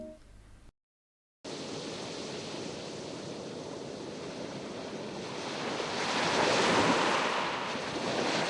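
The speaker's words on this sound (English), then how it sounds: "This adds in some lovely background noise such as ocean waves, chirping birds, waterfall sounds," Ocean waves ambience from the Minetest game's Ambience mod: a steady, broadband wash of surf and wind that swells louder toward the end, following a brief cut of silence.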